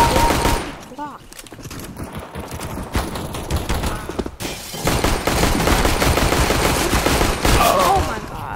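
Pistol fire in a Counter-Strike: Global Offensive Arms Race match, a dense stretch of repeated sharp gunshots with game noise, loud and near, continuing through most of the stretch.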